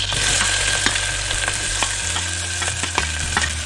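Chopped onion, cumin seeds and green chili sizzle steadily in hot oil for a street-style paneer pav bhaji, a dense close frying hiss with occasional stirring clicks, no talking.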